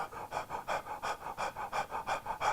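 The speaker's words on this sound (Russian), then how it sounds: "То есть человек садится и активно дышит." A seated person does a shallow, intense breathing exercise, panting quickly and evenly at about five breaths a second, soft and close with no talking.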